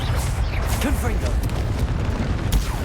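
Booming blasts of the Confringo fire spell in the wizarding game Hogwarts Legacy, dense and loud with overlapping rumbles and crackle, mixed with combat noise.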